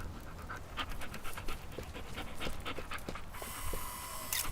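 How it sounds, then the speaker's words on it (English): A dog pants in quick, steady, rhythmic breaths in the video game Teardown, close and clear for the whole stretch, with a few high electronic game tones near the end. "Say cheese, doggy."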